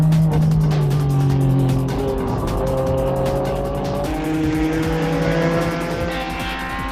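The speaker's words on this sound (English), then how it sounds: "Following right behind was the NSX-based racing car" An NSX-based ADAC GT racing car roars past at speed, its engine note sliding downward as it goes by, loud and close, with no talking.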